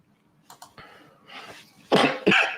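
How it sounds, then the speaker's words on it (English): A few faint breaths and small throat sounds, then two loud, harsh coughs in quick succession, close and on their own. "I didn't want to cough in front of everybody on the camera."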